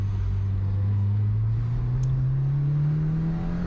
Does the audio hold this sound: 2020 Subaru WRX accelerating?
yes